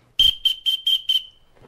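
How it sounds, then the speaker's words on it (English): An Acme Thunderer whistle blown close and loud in five short, evenly spaced shrill blasts, the last one trailing off, with no talking. "Just trying out my new whistle."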